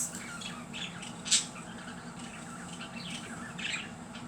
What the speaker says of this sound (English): Actually, I hear parakeets.